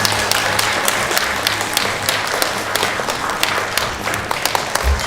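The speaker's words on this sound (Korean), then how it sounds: "네, 다시 한번 따뜻한 박수 부탁드리겠습니다." A crowd at a Korean hanbok honorary ambassador ceremony gives warm, sustained applause, close and loud dense clapping that holds steady throughout, with a faint low hum under it.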